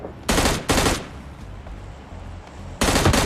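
Shotgun fire in the PUBG Lite battle royale game: two loud, sharp blasts in quick succession, a quieter stretch of low rumble, then two more heavy shots close together at the end.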